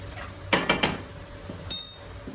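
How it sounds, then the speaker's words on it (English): Fried garlic, chilies, salt, red chili powder, turmeric and dhania powder being stirred in a pan, giving a few sharp metallic clinks and scrapes, three in quick succession then one more, close and fairly loud over quiet background. "Let's mix it."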